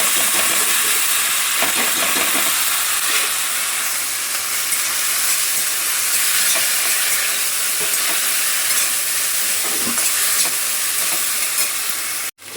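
Steady, loud sizzle and hiss of food sautéing in a pan after salt and turmeric go in, continuous for the whole stretch with faint stirring scrapes and no talk, cutting off abruptly at the end.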